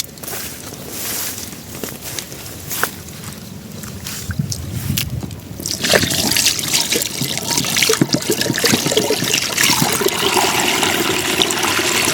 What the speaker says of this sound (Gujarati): હવે આપણે પાછો પાણી ફુવારો ભરવો જોઈએ